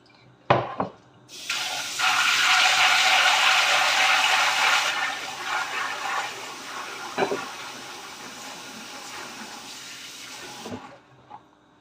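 Soybeans are washed in water for making tempeh: a strong, close rush of running water into a container with sloshing, framed by a few sharp knocks at the start and end, with no talk.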